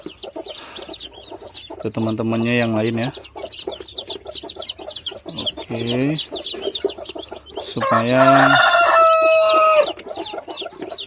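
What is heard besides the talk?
day-old chicks cheeping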